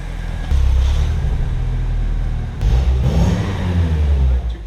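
A 2.5-liter turbocharged inline-four in a Porsche 944 Turbo revs with a deep, loud engine drone that rises and falls over two strong pulls, close by and without talk.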